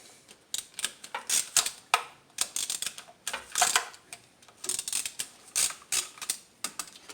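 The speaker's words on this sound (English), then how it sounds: "I'm using a 10mm socket with a long extension and a 3/8 ratchet. And you just want to start loosening all of them." A 3/8 ratchet with a 10mm socket on a long extension loosens valve cover bolts on a 1998 Dodge Grand Caravan, producing repeated close bursts of rapid ratcheting clicks in an uneven rhythm throughout, with no voices.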